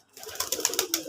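Domestic desi pigeons coo nearby on a rooftop, a quick run of rhythmic, throaty pulses starting after a brief silence.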